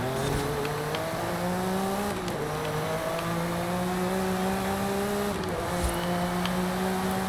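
A 1992 Ferrari 512 TR with an 825-horsepower tune in a racing video game, its engine climbing steadily in pitch through quick gear changes, two clear shift dips, with faint tire noise, loud and close without talk.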